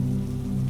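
Steady rain falls on a surface on a stormy night, a dense, even patter with a low rumbling undertone, continuous and fairly loud throughout, with no voices.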